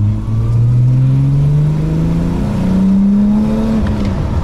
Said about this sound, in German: So, jetzt mal kurz Vollgas 5000,